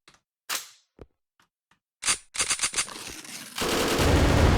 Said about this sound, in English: And now I have a burst fire.